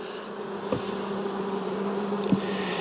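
A steady close drone of honey bees hovers around a brood frame from a nuc hive, a continuous buzzing hum with a couple of brief sharper passes.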